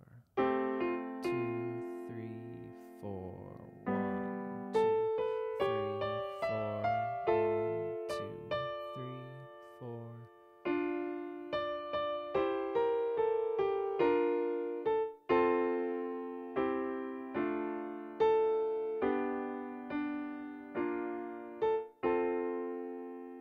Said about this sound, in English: I'm going to play the right hand by itself for the first seven measures